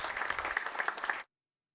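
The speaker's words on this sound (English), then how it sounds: "A warm round of applause." Applause from a conference audience greets a keynote speaker, the NATO Allied Maritime Command commander, at an underwater security event, with brisk, fairly close clapping lasting just over a second before cutting off abruptly.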